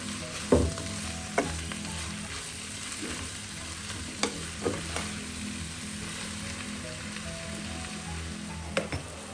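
Ginger, garlic and green chili fry in hot oil with a continuous crackling sizzle, broken by occasional knocks and scrapes of a utensil against the pan.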